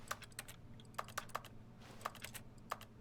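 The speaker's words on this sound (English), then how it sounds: "I just make clicking noises wherever I click, anyway." Computer keyboard and mouse clicks tap out irregularly, sharp and faint, scattered over a quiet background hum during a game of The Stanley Parable: Ultra Deluxe.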